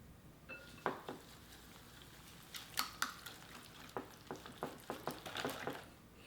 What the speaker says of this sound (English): give that a good whisk